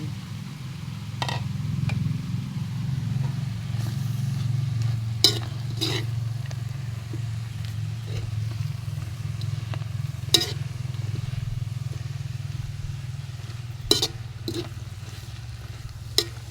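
Kangkong cooks in a pan for bopis, giving a steady sizzle and low frying rumble punctuated by sharp scraping clicks of stirring at irregular intervals.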